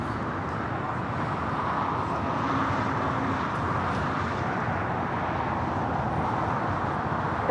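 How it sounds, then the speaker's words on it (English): A Delta Airlines Airbus A330neo heavy jet taking off from the south side at LAX, a steady broad engine roar holding at a constant level throughout, heard from a distance with no talk. "Delta Airlines Flight 7 heading to Tokyo Haneda A330neo to our next heavy takeoff here on the south side"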